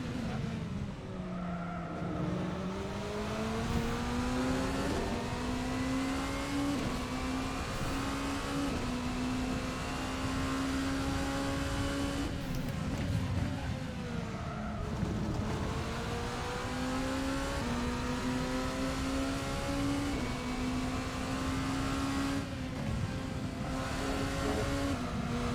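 A racing video game's engine drones loudly and continuously, with rising and falling revs through gear changes and bursts of tire noise, for a lap at Lago Maggiore.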